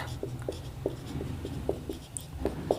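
Chalk or marker strokes on a classroom board during a Hindi geometry lesson on lines and angles, a series of short, light taps and scrapes at an irregular rhythm, close and fairly faint over low room hum.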